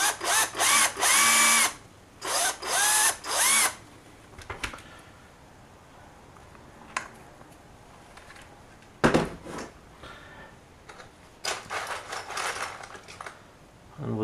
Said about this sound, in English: I'm just going to take my drill and carefully drill a new pilot hole